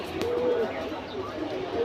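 A silver pankhi pigeon, an old queen-type breed, gives soft low coos among other birds, with a steady background hum of a loft or yard throughout.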